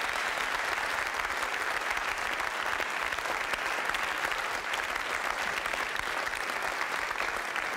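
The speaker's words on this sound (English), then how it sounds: "how about another hand for these guys?" Sustained audience applause for a jazz big band at an International Jazz Day education workshop, a steady wash of many hands clapping at moderate distance, even and unbroken throughout.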